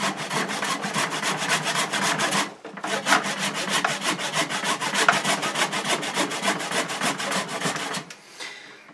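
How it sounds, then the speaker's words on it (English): Wood being cut by hand with a saw to shape a club, the piece held by hand rather than in a vise: steady rapid back-and-forth rasping strokes, close and loud, with a brief pause near the start and quieter strokes at the end. "Oh, I'm shit at sawing."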